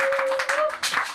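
A church congregation applauds and cheers in short bursts, with a sustained sung or called voice tone running beneath for most of the moment.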